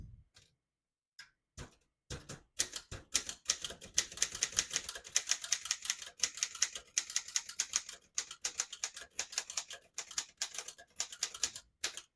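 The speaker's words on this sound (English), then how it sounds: "I'll type a sentence on the next line." Typing on a 1929 Corona 4 portable typewriter, a sentence of sharp mechanical keystrokes in a quick, uneven rhythm after a few isolated taps, close and clear with no talking.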